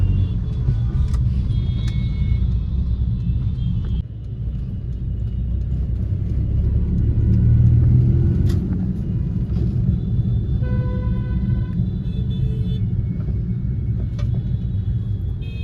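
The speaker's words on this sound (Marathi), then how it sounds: "ट्रॅफिक बघा, ट्रॅफिक." Heavy city road traffic at Churchgate, Mumbai: a continuous low rumble of car engines close by, with occasional faint horn toots rising above it.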